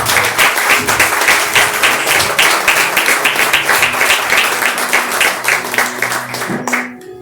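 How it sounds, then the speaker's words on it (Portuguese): A church congregation applauds during a Portuguese-language sermon service, loud dense clapping filling the room with low sustained music beneath, tapering off in the final second. "Você pode aplaudir ao Senhor?"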